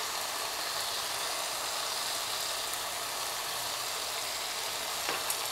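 Curry spices sizzle and fry in a pan, a steady hiss that runs the whole time with faint stirring under it and no talking.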